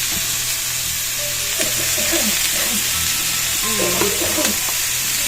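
Jackfruit and potato pieces frying in oil with onion in a pan, a continuous hiss and sizzle with scattered stirring clatter and faint background voices.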